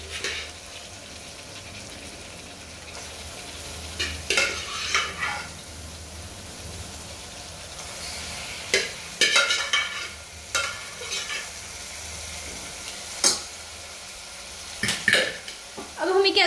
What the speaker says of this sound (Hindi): मटन को मसालों में अच्छी तरह से भूनना है।